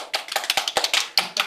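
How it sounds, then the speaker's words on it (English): A run of sharp hand claps, about a dozen quick, uneven slaps close up, fairly loud and with no talk over them. "Everybody clap your hands."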